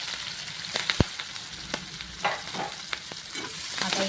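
Mustard seeds, cumin, finely chopped garlic and ginger, and onion fry in hot oil in a pan for spicy sour-yogurt okra, a steady close sizzle broken by occasional crackles and the scrape of stirring.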